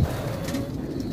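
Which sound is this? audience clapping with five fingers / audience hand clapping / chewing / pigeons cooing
pigeons cooing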